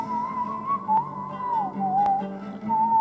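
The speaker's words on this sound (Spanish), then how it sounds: "oye atentamente este silbido" A person whistles a slow, wavering melody over a soft sustained musical backing in a worship setting, the tune clear and steady throughout.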